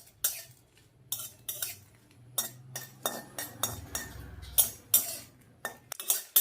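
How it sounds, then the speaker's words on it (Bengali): Dry red chillies stirred in a hot pan for Bengali kul (jujube) pickle, heard as a close series of irregular metallic scrapes and clinks from the spoon against the pan, with faint sizzling underneath and no talking. "শুকনো লঙ্কাটাকে আগে একটু ভেজে নিতে হবে।"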